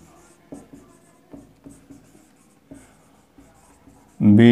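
A marker or chalk writes on a board during a physics lecture, with short, regularly spaced scratchy strokes; a loud voice cuts in at the very end.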